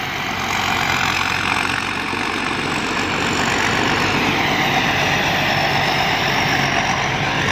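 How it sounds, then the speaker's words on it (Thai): New 2018 Pan Charoen combine harvester in a rice field, its engine roaring loud and steady at close range with constant mechanical rumble and no pauses. "ดูรถเกี่ยวนวดข้าวกันเพลินๆนะครับคันนี้ก็คันใหม่เหมือนกันครับ"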